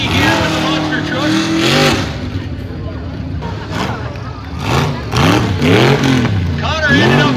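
A monster truck engine at a county fair show revs loudly and continuously, its pitch rising and falling in repeated surges, with an announcer talking over it throughout.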